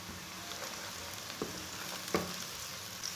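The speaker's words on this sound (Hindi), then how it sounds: "सब्ज़ लहसुन और प्याज को ना दोनों को ब्राउन कर लेंगे।" Green garlic and onion sizzle and fry in a pan at a soft, even hiss, broken by a few faint clicks and stirring knocks, with no voices present.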